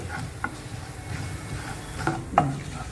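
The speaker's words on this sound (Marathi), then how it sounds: "आणि हे आपले यांना चांगले जरा आता हे चांगले भाजून घ्यायचे।" Whole cumin, fennel and coriander seeds dry-roasting in a pan, with a soft crackle and a few sharp stirring scrapes, close and fairly quiet, with no speech.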